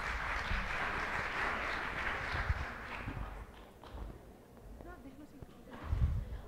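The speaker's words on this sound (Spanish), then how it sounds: "Recibimos a Andrea entonces con un aplauso," Audience applause at a national archivists' conference in the afternoon session, a broad steady clatter of clapping that thins out over the last few seconds as the room settles, with a few louder bumps near the end.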